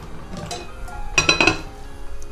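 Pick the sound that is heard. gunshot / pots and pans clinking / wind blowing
pots and pans clinking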